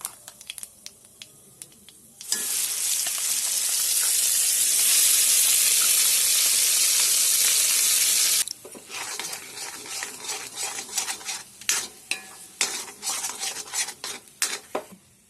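Nigella seeds and spice paste hit hot oil with a loud, steady sizzle that holds for several seconds, then gives way to scattered stirring clatter and softer crackling close by.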